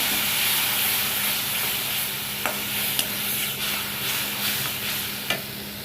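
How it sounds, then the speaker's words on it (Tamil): Ground tomato sautéing with onions in a pan for mushroom gravy, a steady hissing sizzle up close with a few soft ladle clicks and stirs, no talk. "அதை இதோட சேர்த்துக்கோங்க நல்லா வதக்கி விட்டுருங்க"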